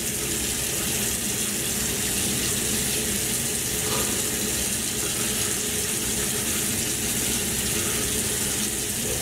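Running water from a tap gushes steadily and loudly while a beard is washed and lathered, a continuous close rushing spray with no talking.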